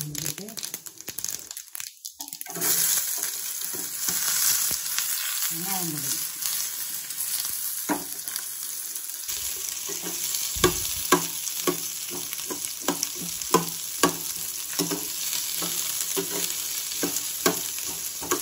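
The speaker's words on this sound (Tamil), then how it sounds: "எண்ணெயை ஊற்றி சட்டியை காய வச்சு எண்ணெயை ஊற்றி கடுகு உளுந்து போடணும்" Mustard seeds and urad dal fry in hot oil in a pan for palak potato, crackling and popping in sharp, irregular bursts over a constant sizzle, with some stirring and a voice talking early on.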